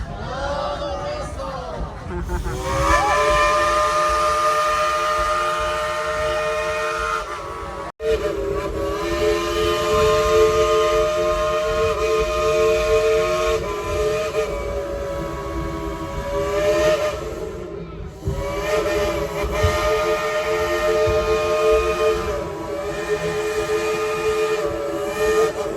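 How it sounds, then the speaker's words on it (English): The Dollywood steam train's whistle blows in long, loud, sustained blasts with a brief break between them, while a crowd of riders cheers and calls out around it. "Let's tell him to blow the whistle."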